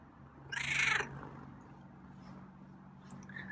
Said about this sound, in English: That was a nice meow.